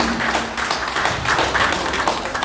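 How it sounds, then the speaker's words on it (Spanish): A crowd of Peruvian ronderos claps steadily at their third extraordinary national assembly, a dense rolling patter of applause in an indoor hall with no voices on top. "Fuertes y calurosos aplausos, hermanos y hermanas ronderas a nivel nacional."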